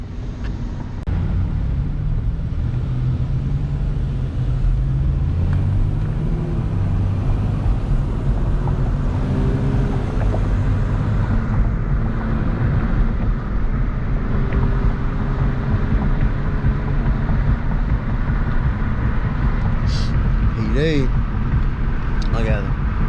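Hyundai Genesis Coupe 3.8 cruising through traffic, a steady loud engine and road drone heard from inside the car, with a few brief higher tones near the end.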